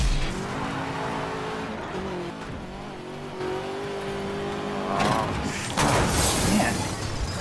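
Racing game Supercharged 3 plays with a car engine droning and changing pitch as it drives, then tyres squealing in a skid near the end, steady and fairly loud with no talking.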